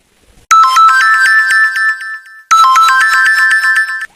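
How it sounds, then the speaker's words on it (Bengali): A phone ringtone plays loud and close in two identical bursts of bright repeating electronic tones, with a brief gap between them after a silent start. "ওদের কথা বলার সময় হঠাৎ ফোনটা বেজে উঠে"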